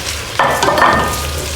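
Beetroot and sweet potatoes tumble into a pot of softened onions for beetroot soup, a sudden clattering drop followed by a brief sizzle and scrape, close and alone.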